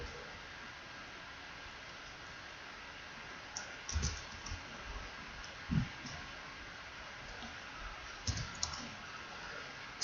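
Mouse clicks while choosing character creation options in a text game, a few soft separate clicks spaced several seconds apart over faint hiss.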